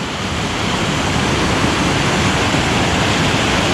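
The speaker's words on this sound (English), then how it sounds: "5-tier waterfall." A five-tier waterfall at Bolton Abbey roars with a dense, constant broadband rush of falling water, close and loud, with no voices.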